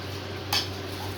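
A spoon stirring mint rice in a cooking pot gives a single brief metallic clink over a low, steady hum, with nothing else around it.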